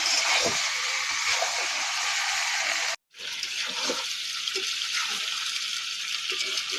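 Meat sautéed with ground spices in a pan gives a steady hissing sizzle, broken by a short pause before resuming with faint stirring scrapes.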